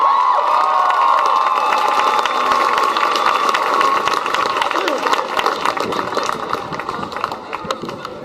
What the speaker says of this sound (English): Give Royce-Ann a round of applause.